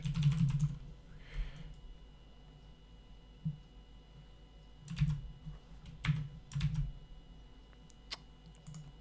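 A computer keyboard typed in short, uneven bursts of soft clicks, close by over a low steady hum in a quiet room.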